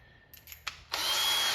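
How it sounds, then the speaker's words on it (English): A power drill fitted with a 7/32 bit drilling through arcade control panel mounts: a few short whirring starts, then a steady, loud, high-pitched drilling whine held to the end. "We got to try to drill through the center of these"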